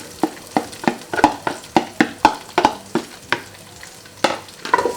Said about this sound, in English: I'm going to allow the onion to cook for a few minutes.